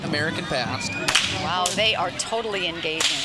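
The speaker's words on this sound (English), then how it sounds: "You can hear those whips cracking." Cowboy performers crack whips at a Fourth of July street parade, with several sharp loud snaps ringing out over continuous crowd noise while a person talks throughout.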